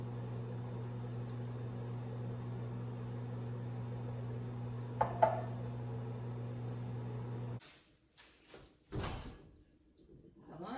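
A microwave oven melting butter hums steadily at close range, then stops, followed by door and handling clatters and a voice speaking.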